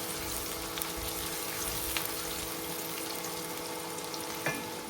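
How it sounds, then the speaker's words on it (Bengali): Onion fries in oil in a wok with a steady, soft, close hiss and faint crackle that holds evenly throughout, with no talking. "এখানে কড়ার মধ্যে তেল দিয়ে, তেলের মধ্যে পেঁয়াজটা হালকা করে ভেজে নেব"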